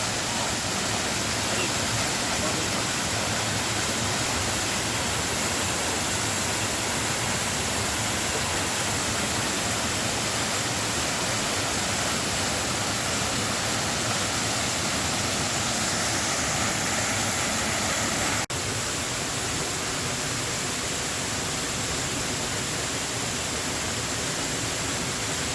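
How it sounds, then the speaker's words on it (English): Buttermilk Falls in Lehigh Gorge State Park, a small waterfall giving a constant broad rushing roar of falling water, steady and unbroken throughout, heard close by. "we made it to Buttermilk Falls. Beautiful little falls here."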